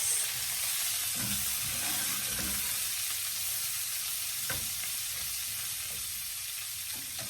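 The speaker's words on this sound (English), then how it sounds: "So you're going to want to saute that till it renders down. I'm going to give it a good mix." Cabbage and bacon sauté in a pan with a steady, loud sizzle and broadband hiss, broken by scraping stirring strokes that come and go throughout, with no voices.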